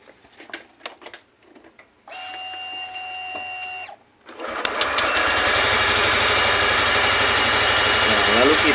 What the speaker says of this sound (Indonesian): Lalu kita nyalakan motornya.